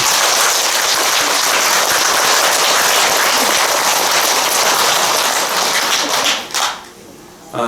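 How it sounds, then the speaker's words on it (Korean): Congregation at a Buddhist temple Dharma service giving sustained, loud, dense applause for a monk, steady for several seconds before cutting off abruptly with a brief burst at the end. "박수 한번 보내주세요"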